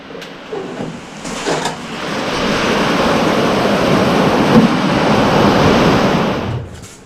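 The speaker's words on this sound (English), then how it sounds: "there was just a huge cloud burst. It just poured here for about a minute." Sudden cloudburst pouring down outside an auto body repair shop, a dense steady roar of heavy rain that swells in after a few knocks and holds loud for several seconds before easing.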